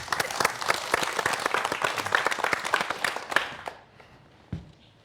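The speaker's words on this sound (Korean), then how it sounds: "박수 부탁드립니다" Lecture audience gives a welcoming round of applause for a parasitology professor at a televised science talk, steady dense clapping for about four seconds before it quickly dies away.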